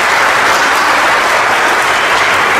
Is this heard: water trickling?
no